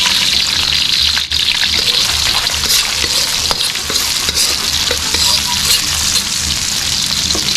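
Onions sautéing in a hot pan while squid is being cooked, a loud, steady close sizzle with scraping stirs and occasional clinks of a utensil throughout.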